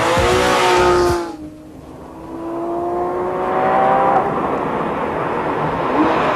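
A Porsche 911 GT3 RS is driven hard: a loud, high engine note with a harmonic whine, tyres squealing, then a sharp drop in sound before the engine revs up again, alone with no talk.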